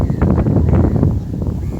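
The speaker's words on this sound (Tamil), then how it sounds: "இப்போ நல்லா காற்று வீசுது" Strong wind gusts across open farmland, buffeting the microphone in a loud, rough roar for a couple of seconds with no talk.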